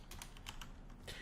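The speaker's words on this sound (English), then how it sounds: "I'm going to type in light mass" Fingers type on a computer keyboard, a faint run of quick, irregular plastic key clicks close by in a quiet room, with no voice.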